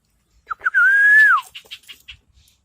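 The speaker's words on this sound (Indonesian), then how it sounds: "Dan ini burung kepodang kita bos, ini sudah mulai dewasa ya" A tame black-naped oriole, nearly adult, gives a clear fluting whistle: two short notes, then one long sustained note that slides down at the end, followed by a few faint softer notes.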